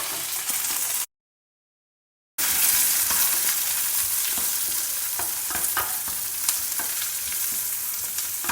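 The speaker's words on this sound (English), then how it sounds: "Saute the onions." Sliced onions saute in hot oil with mustard seeds, chana dal, green chilli and curry leaves, a loud steady sizzle with stirring scrapes, broken by a brief gap of silence near the start.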